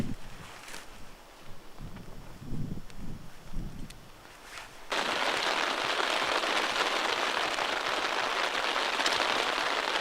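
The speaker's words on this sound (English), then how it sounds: "So day 3 now, 3 straight days of rain." Rain patters steadily on the shoulder of Mount Nimbus along a proposed pipeline route, softer and broken at first, then a dense hiss of close rainfall that takes over halfway through.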